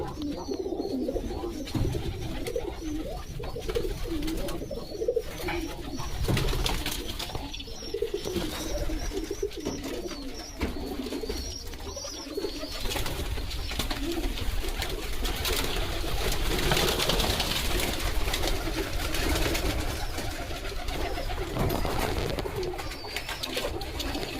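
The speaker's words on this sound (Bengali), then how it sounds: "পায়রাগুলো" Pigeons coo steadily and close by in a pigeon loft with clay nesting pots, soft repeated throaty calls overlapping one another against a constant background hum, with no talking.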